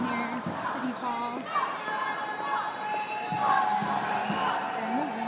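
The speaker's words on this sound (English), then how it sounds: "This crowd started near City Hall." A large protest crowd marching from near City Hall after a presidential election: a dense, continuous roar of many voices with shouting and chanting, steady and fairly loud throughout.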